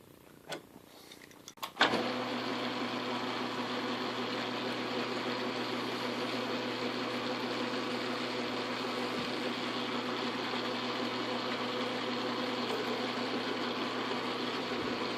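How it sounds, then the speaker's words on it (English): Metal lathe spinning up and running a cutoff tool into a prop sleeve nut held in the chuck, a few clicks then a steady loud machining hum with a low drone and bright whine, continuous, no talking. "We'll come in here with the cutoff tool, get our cutoff started."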